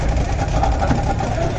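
Fishing boat engine running steadily at sea during marlin fishing, a loud, continuous low rumble with a droning chug that stays constant throughout, heard close by without pauses.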